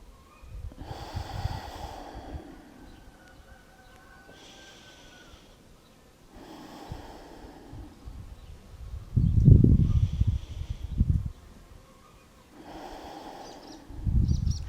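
Slow, deep breaths taken during a seated yoga session, each long inhale and exhale audible and close with pauses between, a heavier nasal exhale near the end, no talking.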